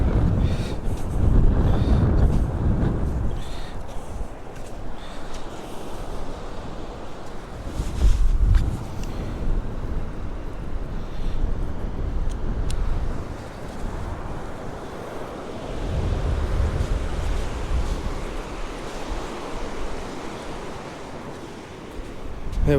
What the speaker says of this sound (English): It's getting blowy, mind.